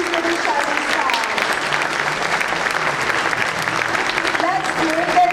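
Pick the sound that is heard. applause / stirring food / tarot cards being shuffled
applause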